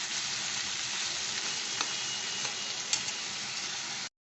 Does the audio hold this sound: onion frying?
yes